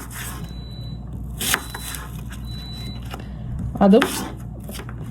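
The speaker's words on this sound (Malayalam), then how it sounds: "ഇനി നമുക്ക് ഈ ആപ്പിളിനെ ഒന്ന് മുറിച്ചെടുക്കാവേ." A knife cuts through an apple on a board in two short crunching strokes, one brief and one heavier, under a voice speaking Malayalam.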